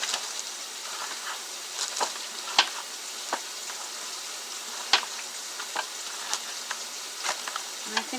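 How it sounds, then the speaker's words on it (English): A spoon stirs chicken soup in a crock pot, giving a steady, faint sizzling wash broken by sharp clinks against the pot at irregular moments. "I'm going to give it a stir."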